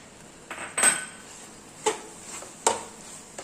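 A spoon knocks and scrapes in a pan while samosa filling is mixed with fenugreek and fresh coriander, giving a few sparse metallic clinks spaced irregularly over quiet background.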